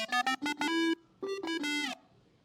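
A buzzy Arturia MiniFreak synth with tape saturation across the whole frequency spectrum plays two short phrases of staccato notes ending in sustained tones, with a warm, gritty edge.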